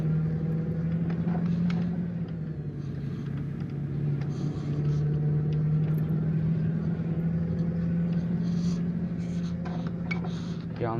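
A steady low engine drone of a Scania R440 truck in Euro Truck Simulator 2 hums throughout, a truck-like rumble holding its pitch and shifting slightly, joined by faint clicks and small background noises.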